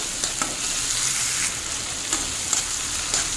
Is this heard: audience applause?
no